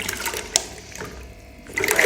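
Water and ice are tipped out of a container into a bucket, a close splashing, rushing pour that fades and then swells again near the end, with no talk.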